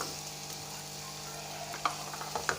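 Keema fries in a pan with a soft, continuous sizzle and faint crackle, a few sharper pops and spatters near the end, fairly quiet and close with no voices.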